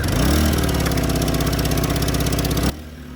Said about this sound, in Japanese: 発電機にエンジンオイルが回ると簡単にエンジンがかかります